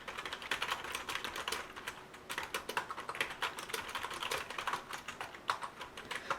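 Typing on a computer keyboard, with fast, irregular clicking keystrokes in rapid bursts at close range, fairly quiet, with no speech.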